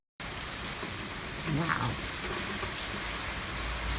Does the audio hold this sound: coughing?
no